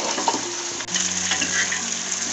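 Mutton is stirred in a cooking pot, giving a steady, close sizzling hiss with faint scraping throughout.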